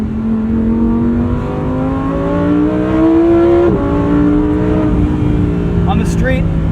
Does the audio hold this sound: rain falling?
no